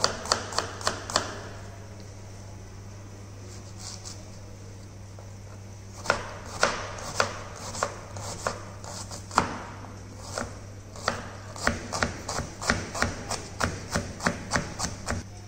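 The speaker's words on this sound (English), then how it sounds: "We will chop onion for dal makhni and baingan bharta." An onion is chopped with a knife on a board. A quick run of sharp, even knocks is followed by a pause, then long steady bursts of rhythmic chopping.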